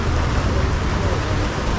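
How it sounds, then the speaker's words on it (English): Rain falling on a busy city street in Pretoria's central business district, a dense, steady hiss with low rumble from traffic beneath, continuous and close throughout. "It's starting to rain, guys."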